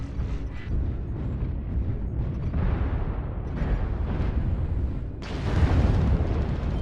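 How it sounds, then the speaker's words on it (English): In the MechWarrior Online video game, a Cataphract mech takes incoming missile fire. Layered mechanical rumbles and creaks build to a loud burst of explosion noise near the end. "Warning, incoming missile."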